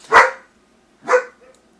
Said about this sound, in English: That's my German Shepherd barking at someone at the door.